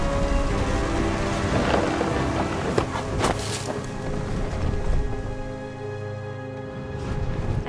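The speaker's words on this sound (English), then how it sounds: "The thunder sounded much too close and full of angry power" A storm in the video game What Remains of Edith Finch, with heavy, steady rain and deep rumbling thunder that swells and rolls throughout, loud and close.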